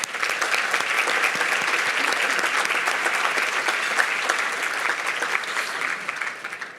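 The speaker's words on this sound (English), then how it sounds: "Please join me in applauding these amazing women today." Sustained audience applause at a women's charity honoree event, a dense, steady roar of many hands clapping throughout with no speech over it.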